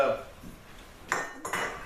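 Small metal camping cookpots, 12 cm in size, and little bundt-style baking pans being handled, giving two quick, close metallic clinks after a quiet stretch.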